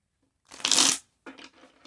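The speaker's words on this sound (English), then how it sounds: "let me shuffle some more" A deck of tarot cards is shuffled close by: one long riffle-like burst, a brief pause, then a few shorter, softer shuffling bursts.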